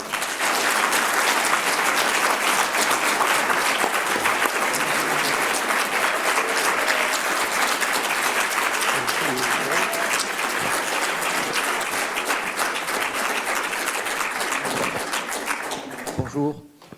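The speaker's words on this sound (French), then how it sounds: "je vais vous demander d'accueillir sous vos applaudissements Jean-Louis Etienne." An audience at a climate convention applauds to welcome a speaker, producing loud, dense, sustained clapping from a large crowd that fills the hall for about sixteen seconds before tapering off abruptly.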